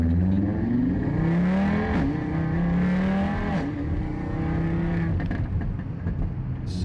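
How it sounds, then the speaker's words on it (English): A sports car engine in sport manual dynamic mode revs up and falls back in several rising and falling sweeps, loud and close, with no talking. "So we have the vehicle right now in the sport manual dynamic. I'm gonna try to rev it a little bit."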